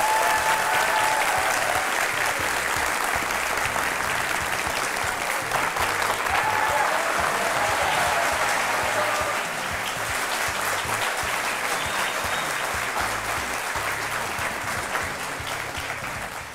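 A studio audience on Aap Ki Adalat gives long, continuous applause for guest Shivraj Singh Chouhan, Chief Minister of Madhya Pradesh. The dense clapping holds steady for many seconds before tapering slightly at the end.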